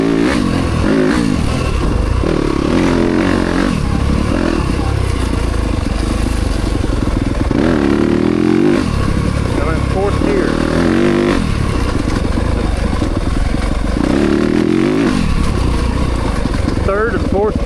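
Yamaha YZ300FX dirt bike with a 304cc Athena big bore kit accelerating hard through third and fourth gear, loud and close, with repeated rising engine sweeps and brief shift dips, while a rider talks over it.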